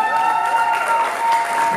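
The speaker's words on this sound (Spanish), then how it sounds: "Un fuerte aplauso." An audience at a walk-of-fame celebration with a father-daughter dance applauds in a loud, dense burst of clapping, with a steady electronic tone sounding over it.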